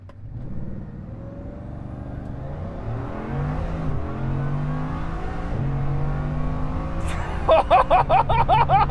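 Bugatti Chiron Super Sport 300+ accelerating hard, its engine note rising steadily in pitch through a long pull with clear gear progression, loud and close, ending in a rapid pulsing burst.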